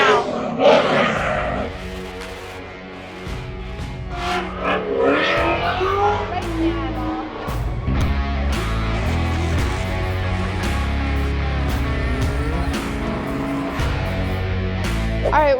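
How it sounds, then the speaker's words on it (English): Drift race cars at the SEMA show roar with sustained engine revving and tire noise, a loud continuous mechanical drone with surges, set against a busy crowd and some talk. "Drift races are happening behind me."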